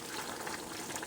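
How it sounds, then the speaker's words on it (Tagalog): Coconut milk stew with banana heart, papaya and bok choy bubbles at a steady, close rolling boil, with a dense continuous simmering hiss. "Kumukulo na guys siya."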